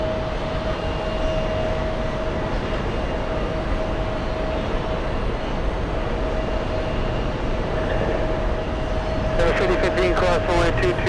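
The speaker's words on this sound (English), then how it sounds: "Landing right now, we have another LA flight. This one bound for JFK." A Boeing 767-400 airliner coming in to land at JFK, a steady broad engine roar with a constant whine throughout, swelling slightly near the end, with voices talking over it.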